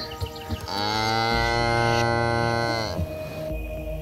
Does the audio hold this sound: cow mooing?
yes